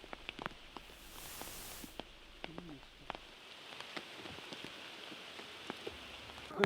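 Monsoon rain falls steadily in the Malnad hills along the Bisile–Subrahmanya road, a soft continuous hiss with scattered nearby drips and taps and a faint bird call, with no talk.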